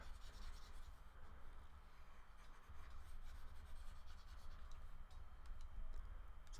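A board being erased during a calculus lecture on Green's Theorem, a steady soft rubbing and scraping that runs continuously and fairly faint throughout, with no talking.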